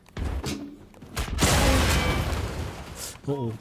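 Explosion in the video game Wolfenstein II: The New Colossus, a deep booming blast with rumbling debris that rolls on for about two seconds. Someone talks over the game sounds before and after it.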